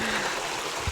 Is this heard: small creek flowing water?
yes